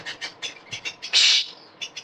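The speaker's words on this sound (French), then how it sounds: "j'ai mes oiseaux qui se chamaillent" Pet birds squabble indoors in short, sharp chirps and chattering bursts, with one louder, longer screech in the middle; close and fairly quiet.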